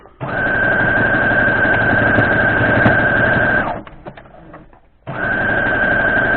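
A sewing machine stitches Dresden Plate quilt blocks in two steady, loud runs, the first about three and a half seconds long and then a second run after a short pause, close to the listener.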